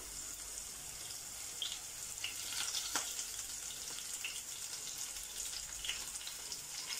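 Ginger and curry leaves frying in oil for tomato rice, a soft, steady, faint sizzle with light crackles and pops, no voices.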